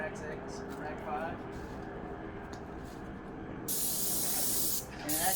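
A paint spray gun, set to fairly high pressure, lays a first coat indoors downstairs, giving short sharp hissing bursts after a stretch of talking, with voices heard around the spraying.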